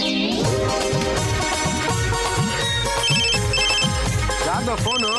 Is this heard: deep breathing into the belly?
no